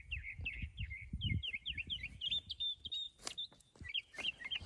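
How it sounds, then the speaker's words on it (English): A songbird sings outdoors in a quick run of bright, varied chirps and trills that keep going through the whole stretch, with low rumbling handling noise and soft movement sounds underneath. "What is that? What kind of bird is"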